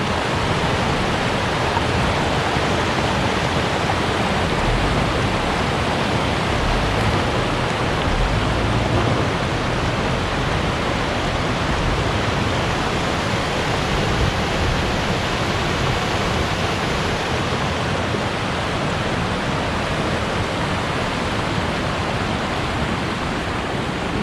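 Steady rushing water from a stream where a rural track fords it near an off-grid cabin in New Zealand, a loud, continuous broadband wash with no pauses and no voices.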